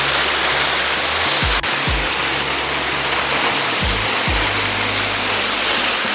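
A forceful waterfall at Mannathipara, Chelakkara, in the Western Ghats roars in a dense, unbroken close rush, with a few brief low whooshing sweeps underneath.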